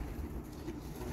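Stock racing pigeon cooing in a loft, low soft throaty coos close by, repeating over quiet background.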